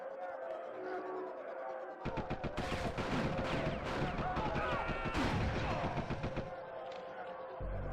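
Rapid automatic gunfire rattles in the shooting mode of Die Hard Trilogy 2, a dense burst of shots running for about four seconds over a steady game soundtrack.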